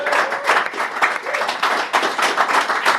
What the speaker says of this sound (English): So a round of applause for Hayabusa 2.